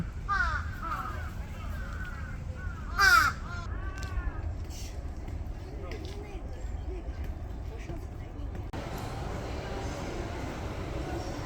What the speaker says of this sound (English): And all these crazy crows going crazy